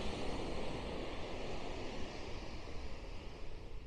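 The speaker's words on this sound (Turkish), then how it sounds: "Burada hem biraz rüzgar var hem de dalga sesleri geliyor." Sea waves wash in over gusting wind at the shore, a broad, soft, steady roar with faint rumbling buffets of wind against the microphone.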